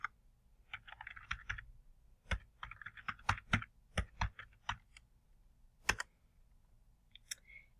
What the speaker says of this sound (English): right here I'm typing my first name dot last name, and then I am typing in my password